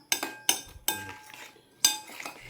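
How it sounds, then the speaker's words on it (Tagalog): A spoon clinks against a plate while mixing graham crackers with Alaska milk, four sharp close metallic strikes spaced unevenly, each followed by a brief scraping ring. "you're going to mix the grahams with the Alaska."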